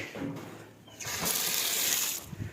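Water running from a tap at a house, a soft splash at first that swells into a steady, loud rushing hiss, then eases slightly near the end.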